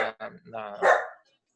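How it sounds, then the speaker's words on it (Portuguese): A pet dog barks indoors in a quick burst of several loud, close barks, the last one longer, and then everything goes quiet. "Não sei se vai conseguir editar o cachorro latindo."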